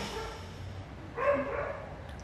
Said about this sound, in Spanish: el perro que ladra se llama Milo y es de mi vecino